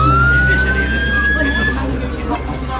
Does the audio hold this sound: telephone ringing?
no